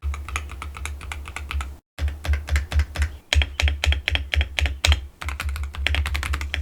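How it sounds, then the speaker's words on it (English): Fast, crisp keystrokes on an ADHE computer keyboard, typed in quick irregular bursts with a brief pause, close and clear with no talking. "show you guys how the ADHE is an improvement over my previous keyboard"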